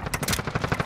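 Rapid automatic gunfire in a shooter video game, a quick burst of close, sharp shots in a fast rattling rhythm lasting under a second.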